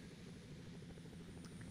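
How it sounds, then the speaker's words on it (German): Helicopter arriving in The Sims 2 game, a steady low rotor drone held throughout, faint and continuous. "Wow, und kommt mit Hubschrauber."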